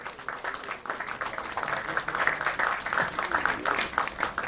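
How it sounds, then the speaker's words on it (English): A crowd at a film trailer launch event applauds the cast, with dense, continuous clapping of moderate loudness that swells slightly across several seconds and carries no talk over it. "could we have a louder round of applause for the entire cast here?"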